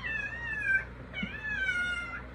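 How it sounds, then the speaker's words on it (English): A house cat meows twice, two drawn-out wavering cries separated by a short pause, close and clear over a quiet room, with no talking. "where you hear the kitty cat behind me meowing"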